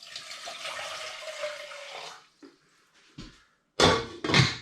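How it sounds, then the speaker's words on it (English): Half a litre of spring water poured onto tea bags in a pot, a steady splashing pour for about two seconds, then a few small knocks and two louder bursts of clatter at the end. "I'm going to add about ½ litre of spring water"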